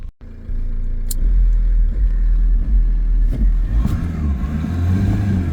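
Turbocharged car engine kicks in after a brief quiet start, then rumbles and revs loudly under acceleration, its low drone rising and wavering up close, with a few sharp clicks along the way.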